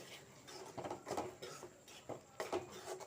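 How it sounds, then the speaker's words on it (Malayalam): A spoon stirs soya chunk masala curry in a pan after pepper powder goes in, giving a steady series of close scraping and clinking strokes against the metal with short pauses. "നന്നായിട്ട് ഇളക്കി കൊടുക്കാം."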